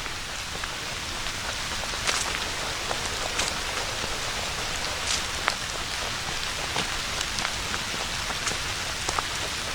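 Steady rain patters across a partly paved hiking trail on a cool day, a dense even hiss broken by scattered sharper drops landing close by, with no voices.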